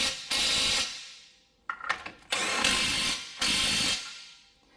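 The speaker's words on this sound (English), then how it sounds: "I start them off with a gun, but I don't go ham on them" Impact gun spinning on the oil pan bolts of a 2017 Toyota Sienna during an oil pan repair: four loud, close bursts of roughly a second each, separated by brief pauses and a short burst of clattering.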